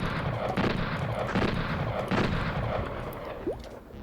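Exploding lips enemies bursting in the Mayhem Mansion video game, with repeated booming blasts over a steady rumbling game backdrop.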